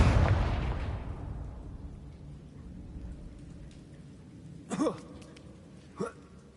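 A Confringo fire spell blasts in Hogwarts Legacy, one loud burst that fades into a long rumbling tail, followed by two short sharp sounds near the end.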